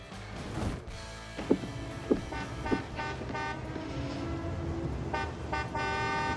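A car horn sounds in Pretty Woman, a few short, modest toots standing out over steady street ambience and background music, with a sustained honk near the end.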